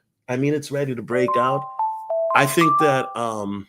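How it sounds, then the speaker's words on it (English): An alarm clock sounds a few short electronic beeps that ring out between and under a person talking. "sorry guys, that's my alarm clock."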